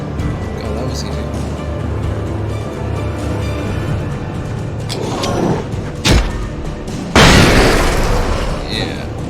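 A sudden sharp boom from a flashbang in the video game Alan Wake bursts out late, after a smaller pop, following a stretch of steady game ambience and a voice talking.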